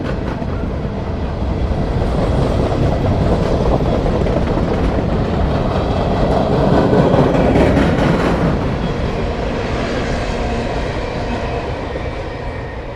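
A Norfolk Southern freight coal train rolls past steadily at close range, a loud continuous rumble with wheel clatter swelling slightly midway and easing toward the end, with no voices.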